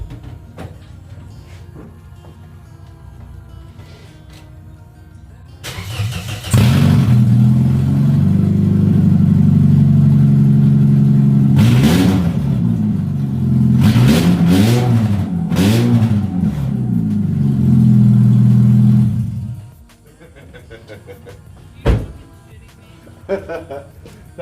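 A Scion xB engine with an open exhaust manifold and no catalytic converter starts up and revs, giving a loud, raw, rumbling idle with several sharp throttle blips. The engine then shuts off, and a few knocks follow.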